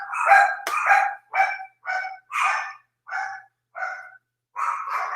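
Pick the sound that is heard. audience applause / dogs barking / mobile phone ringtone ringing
dogs barking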